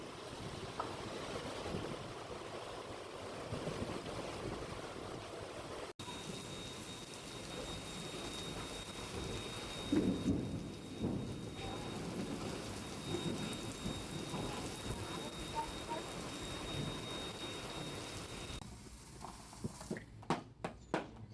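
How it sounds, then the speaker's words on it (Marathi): Heavy village downpour with thunder and gusty wind, a dense continuous roar of rain pounding surfaces with rumbling thunder, and sharp close drips and knocks near the end, no one speaking. "बघा, अजून पण पाऊस चालू आहे बऱ्यापैकी."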